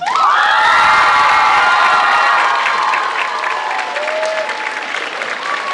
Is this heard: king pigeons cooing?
no